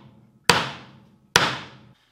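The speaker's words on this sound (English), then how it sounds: "swing the hammer with your elbow" A hammer drives a nail into wood with two sharp, loud strikes a little under a second apart, each ringing briefly before fading, with no talking.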